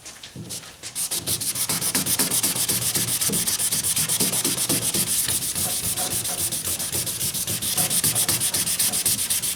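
Wet sanding the painted body of a 1977 Camaro Z28 with a sanding block, a loud close rhythmic rubbing in steady back-and-forth strokes, with a short pause at the start before continuous scrubbing.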